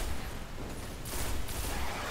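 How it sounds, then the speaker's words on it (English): Gunfire in Destiny rattles in a dense, continuous burst of rapid shots, fairly faint and washed together with a rumbling low end. "Never stop shooting."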